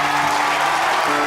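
Steady applause from a studio audience on a Kannada TV talk show, dense clapping that stays loud and even throughout.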